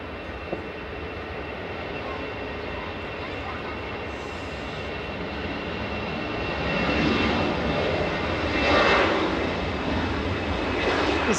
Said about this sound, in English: EasyJet departed